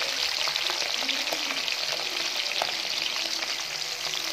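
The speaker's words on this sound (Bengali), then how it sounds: "চিংড়ি মাছটা নুন মাখিয়ে ভেজে নিচ্ছে" Salt-rubbed shrimp fry in a pan, making a loud, dense, continuous sizzle up close, with a few soft stirring clicks mixed in.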